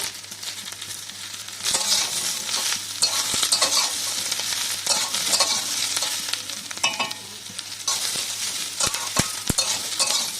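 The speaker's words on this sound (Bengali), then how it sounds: "সবজিগুলো প্রায় ভাজা ভাজা হয়ে এসছে" Ridge gourd and capsicum fry in a wok with a continuous close sizzle, broken by stirring scrapes and several sharp metallic clinks of a utensil against the pan.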